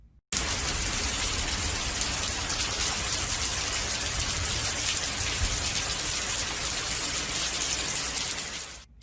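Steady rain falls on potted plants while a little girl waters them outdoors, a dense, even hiss of drops close by that continues without pause and fades out at the end, with no talking.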